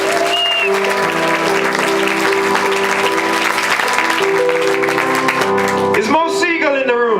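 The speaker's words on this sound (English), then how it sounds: "Can I give Chris Halverson a big round of applause?" Audience applause rises under a bed of sustained music, holding steady throughout, with a voice breaking in briefly near the end.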